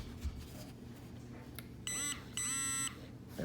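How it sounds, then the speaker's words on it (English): Energrid VS150X power bank emitting electronic beeps, two clear tonal bursts in quick succession, close and moderately loud above a faint room background. "So it's gonna give you 3 tones there, 3 beeps and 3 vibrations."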